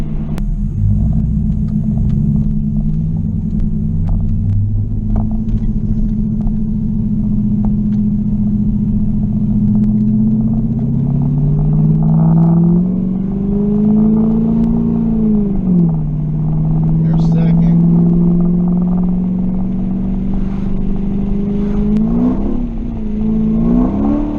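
A Chinese-built Corvette-style car's engine rumbles steadily with rising and falling revs as its automatic transmission hunts for a gear, dropping too far and slipping out of second, the pitch sagging and surging unevenly with no one speaking.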